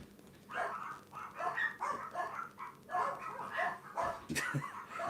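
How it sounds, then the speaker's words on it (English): Dogs bark repeatedly in uneven bursts, fairly close, with a few yips and whimpers mixed in. "The dogs are going in the background."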